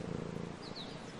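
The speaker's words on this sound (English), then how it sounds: "you can hear it purring" A cat purrs in the video game Brothers: A Tale of Two Sons, a soft close rhythmic rumbling pulse that runs steadily through the short moment.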